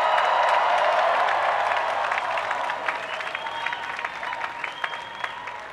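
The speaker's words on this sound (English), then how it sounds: "I'd like everyone to cheer for this next school" A large crowd at a university graduation ceremony cheers and applauds, loud at first with shouts mixed in, then settling into steady clapping with occasional whoops.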